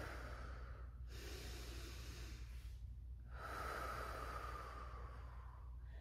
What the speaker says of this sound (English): So I'm gonna take a deep breath in.